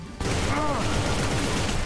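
Dense gunfire in the third-person shooter Inversion, a continuous loud rattle of shots up close under game music.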